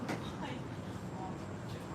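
Tram rumbling along near the Queen's Medical Centre stop on a Nottingham line bound for Hucknall, a steady low rolling drone throughout with faint voices and an onboard announcement over it.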